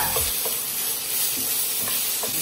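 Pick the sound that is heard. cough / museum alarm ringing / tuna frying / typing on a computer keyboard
tuna frying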